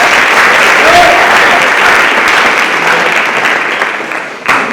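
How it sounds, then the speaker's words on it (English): A large audience at a ceremony with risers breaks into loud, dense, continuous applause up close. The clapping holds steady and then thins slightly at the end. "Let's give her a round of applause."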